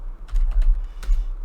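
Short bursts of keystrokes on a computer keyboard as a folder name is typed, a few quick clustered taps with a brief pause between, close and clear over a low hum.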